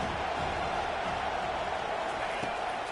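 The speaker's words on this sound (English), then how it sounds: "Decibels rising as the crowd gets behind this defense on third down" Football stadium crowd at third down, a steady, dense roar of noise that holds at a fairly even level throughout, with faint commentary speech mixed in.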